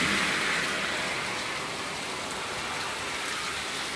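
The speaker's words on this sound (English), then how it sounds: "Wow, it is raining harder." Heavy rain pours down in a dense, constant hiss that stays loud and unbroken, with no voices over it.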